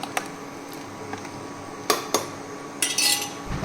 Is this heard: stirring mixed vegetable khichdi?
yes